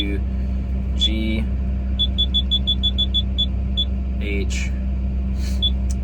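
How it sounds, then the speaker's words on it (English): Rapid, evenly spaced electronic beeps chirp from a hydraulic hammer's monitor over a steady low machine hum, with brief voices breaking in at the start and near the end. "I don't want you to listen to all this beep"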